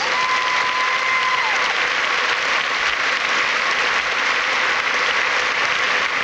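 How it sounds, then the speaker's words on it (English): Loud, continuous applause from a large audience at the Miss Universe 1987 pageant, a dense steady roar of clapping lasting throughout with no talking. "Along with the applause of our audience, you have the gratitude of everyone associated with the pageant."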